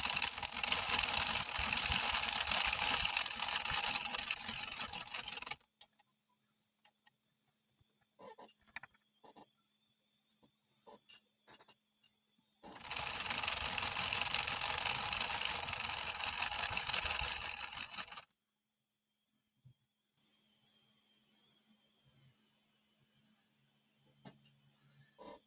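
Sentro 22 circular knitting machine being hand-cranked with yarn, two bursts of dense clicking ratchet rattle about five seconds each, separated and followed by quiet gaps with small handling taps.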